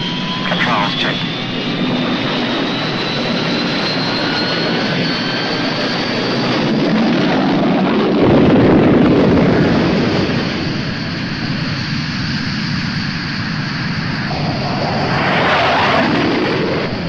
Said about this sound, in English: Aircraft running up on deck